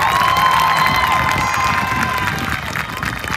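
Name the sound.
applause and cheering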